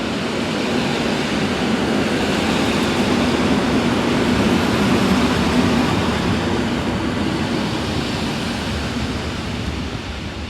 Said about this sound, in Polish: I wjeżdża pociąg Regio z Gliwic.